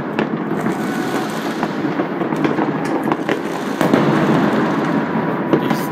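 New Year fireworks salutes crackle and burst in a dense, continuous barrage, with sharp pops and booms overlapping at middle distance and a louder stretch toward the end.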